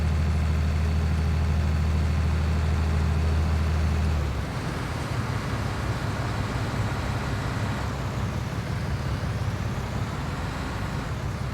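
A tractor engine idles in Farming Simulator, a steady low drone that drops to a quieter, rougher rumble partway through, with no one talking.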